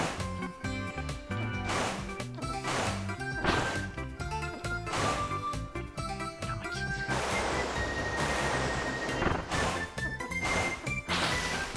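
Kirby's water ability wave attack in Kirby's Return to Dreamland, repeated splashing crashes of water amid game music and effects, loud and rhythmic, with a player talking occasionally.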